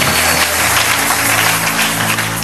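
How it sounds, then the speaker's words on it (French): Congregation applauding and cheering at a church service, a dense, loud wash of clapping and shouts sustained across the whole moment. "Tu n'as pas bien acclamé, acclame."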